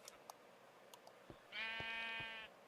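A Minecraft sheep lets out one clear, wavering bleat lasting about a second, close and alone, with a few soft clicks and taps before it.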